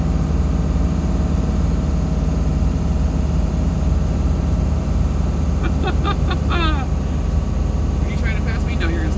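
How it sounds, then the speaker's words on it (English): A truck engine drones loud and constant on a downhill grade after a big downshift, a heavy low rumble filling the cab, with a brief voice-like chirp near the end. "Big downshift there."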